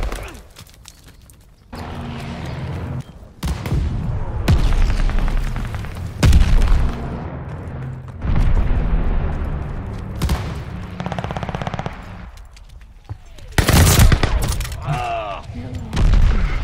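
Incoming mortar rounds burst in a Call of Duty Vanguard battle, with several loud booming explosions among sustained gunfire and heavy rumble, close and dense, with shouted voices mixed in.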